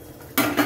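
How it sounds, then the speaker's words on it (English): A lid lifts off a pot of tomatoes softening over a low flame, a brief metallic clatter followed by a quick second clink, loud and close. "I'll open the lid"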